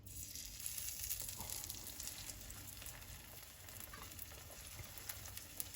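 Burger patties frying in a hot pan on a stovetop, giving a steady, close crackling sizzle with small pops and no talking.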